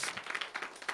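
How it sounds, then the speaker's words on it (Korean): A church youth congregation applauds during a Sunday service, with steady, moderately faint clapping from many hands filling the whole moment. "우리 한번 큰 박수로 한번 칭찬하고 격려합시다."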